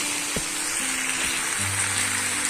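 Beans and onion stalks frying in a pan for a fish chorchori, a steady close hiss of sizzling oil with faint stirring knocks and a low hum underneath.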